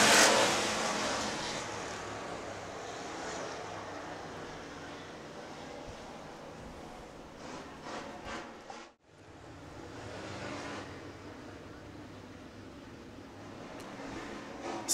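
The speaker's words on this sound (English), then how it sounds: "Stock car heat race number 1 will roll down the back straightaway into 3 and 4 to the green flag like this." Stock cars roll down the back straightaway at Crawford County Speedway toward the green flag for a heat race, their engines forming a steady, distant drone with wind noise and a brief dip partway through.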